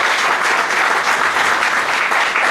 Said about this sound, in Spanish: yo les pido un fuerte aplauso